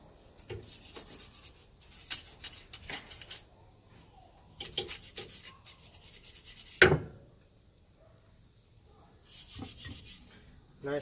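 Stiff brush scrubbing the grate and deflector-stone rack of a Monolith kamado barbecue grill, in repeated bursts of raspy rubbing separated by pauses, with one sharp metallic knock midway.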